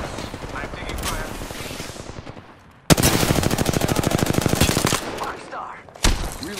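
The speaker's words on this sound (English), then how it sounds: "Shots fired, and they're hitting me." Automatic weapon fire rattles in a burst of rapid, evenly spaced shots during an Apex Legends match, loud and close, with lighter game sounds before and a single sharp report near the end, and a voice speaks partway through.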